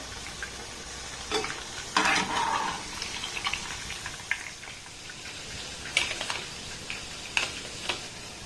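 Pitha sweets frying in hot oil and being lifted out, with a low steady sizzle broken by several sharp scraping clinks of a utensil against the pan, no voices.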